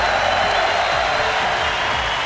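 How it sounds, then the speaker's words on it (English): Dense, steady applause fills a large arena at the League of Legends World Championship finals, a continuous wash of clapping and crowd noise with no break. "and getting the applause he deserves."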